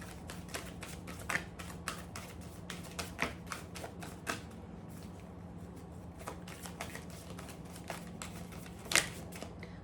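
Quiet, close riffling and soft clicking of tarot cards being shuffled, in short bursts with small snaps between them.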